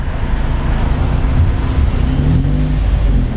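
A deep sports car engine rumbles steadily at close range, a loud, throaty low drone with slight surges in revs.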